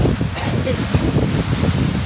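Gusty wind buffets the microphone with a steady rushing roar, while voices murmur faintly underneath.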